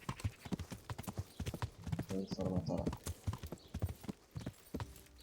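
Horse hooves clip-clop steadily in a riding scene from the medieval video game Kingdom Come: Deliverance, with someone talking over the rhythmic footfalls throughout.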